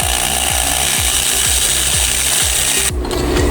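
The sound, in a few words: drilling a pilot hole into hardened steel shifter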